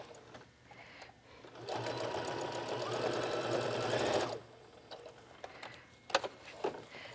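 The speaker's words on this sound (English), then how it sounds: "I'm just going to line it up and come down here and backstitch." A sewing machine backstitches the seam of a fabric wallet in one short, steady whirring run, followed by a few faint clicks and handling taps.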